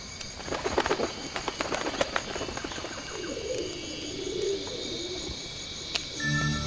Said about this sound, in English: Maybe we can use the bread on the pigeons.